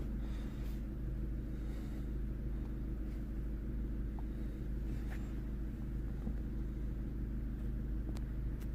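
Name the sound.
Vauxhall Opel Astra J 1.4 engine running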